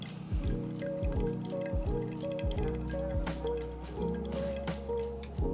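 Coffee drips steadily through a Timemore pour-over dripper into a vessel, a series of soft repeated plops and trickles close by, with a faint low hum underneath.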